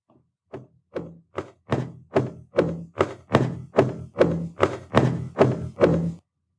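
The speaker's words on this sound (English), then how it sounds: "The sounds of the quick, thumping footsteps behind were indicative of the lizard following me." Quick, heavy footsteps thump in a steady run of about a dozen hits that grow louder and closer, each a dull thud, with no other sound around them.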